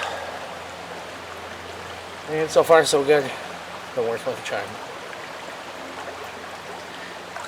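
A forest creek flows with a constant soft rushing and trickling wash from start to finish, while someone speaks briefly over it in the middle.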